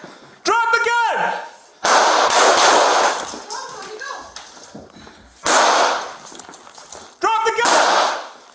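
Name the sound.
gunshots during a police confrontation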